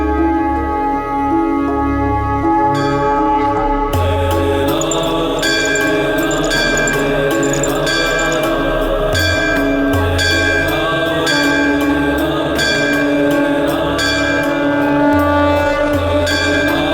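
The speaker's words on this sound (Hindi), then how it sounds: "और इतनी तेज ध्वनि में घंटी बजा रहा है" A temple bell rung loudly at night, its bright metallic strikes repeating steadily over a dense, sustained ringing wash with a low drone beneath, continuous and close.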